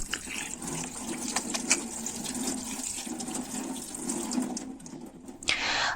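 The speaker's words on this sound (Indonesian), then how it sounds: "cuci bersih lagi ikan bandengnya dengan air mengalir." Tap water runs steadily over a milkfish being rinsed clean after gutting, a continuous close splashing flow with brief louder spatters and no talk.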